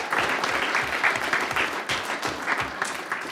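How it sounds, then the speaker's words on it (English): An audience at a governing board meeting applauds, loud and close, the clapping swelling in uneven waves and continuing for several seconds. "let's give a round of applause to"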